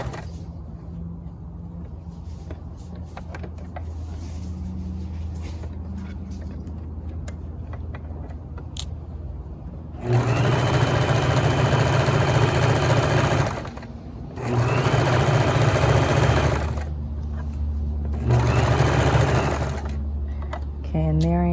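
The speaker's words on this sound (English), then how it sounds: "Sewing around the curve." A sewing machine understitches around a curved waistband in three loud, close runs of steady whirring with brief stops between them, after a stretch where a person speaks quietly.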